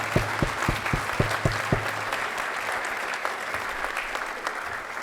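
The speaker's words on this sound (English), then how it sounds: "If we can give Lane a round of applause, please." A conference audience claps for an honoured attendee, a few distinct sharp claps at the start quickly swelling into sustained, fairly close applause from the room.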